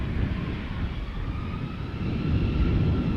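A jet airliner rumbles on the runway at Amsterdam Schiphol airport, a broad, low engine roar that holds steady and swells slightly louder toward the end, heard from a moderate distance without talk.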